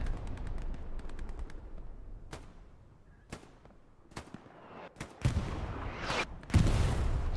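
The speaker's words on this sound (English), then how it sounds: "Got a lot of artillery coming down right here." Gunfire and artillery rattle across an Omaha Beach battle in the World War II video game Hell Let Loose. Sharp isolated shots and bursts come at irregular intervals, some near and some distant, and heavier rumbling blasts build toward the end.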